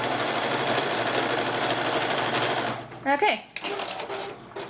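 A sewing machine stitches a patchwork journal cover straight over pins, a fast, even mechanical whir close by that runs for about three seconds and then stops, followed by a brief spoken word and light handling sounds.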